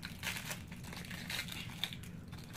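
Crinkling plastic packaging of a gingerbread train kit being torn open up close, a steady crackly rustle with a few sharper rips.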